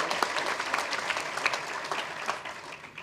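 Crowd at a school district groundbreaking ceremony applauding student representatives, dense continuous clapping from many people for a few seconds, gradually thinning toward the end.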